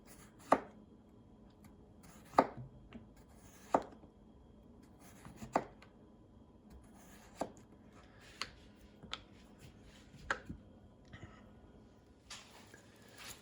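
Spyderco Bodacious knife pushed straight down through food onto a cutting board, about ten sharp separate chops spaced a second or two apart, close and quiet between strikes.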